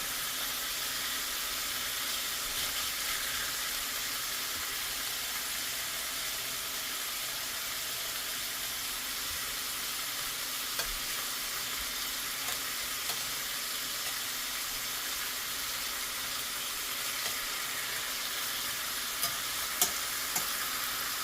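Chicken thighs brown in a heavy skillet, giving a steady, dense sizzle and hiss that runs evenly throughout, close and alone, with a few faint clicks near the end.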